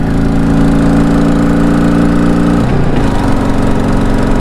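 A motorcycle engine running loud and steady at close range, holding a constant drone with a brief change in pitch near the middle as it shifts up through the gears toward fifth.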